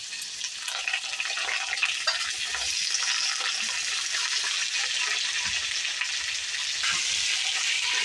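Potatoes frying in a hot pan for a small-fish curry make a steady, bright hiss of sizzling oil that holds at an even level for the whole stretch, with faint stirring beneath and no voices.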